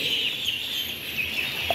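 Pet ducks call from close by in a steady, continuous chatter of quacks and clucks that carries through the whole short stretch with no talk over it.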